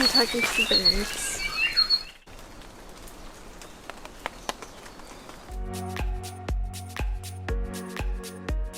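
Wild birds chirp in scattered, fairly faint calls in a rainforest on a crater trail in Volcanoes National Park, over a patter like rain, with a rhythmic clicking pulse in the later part.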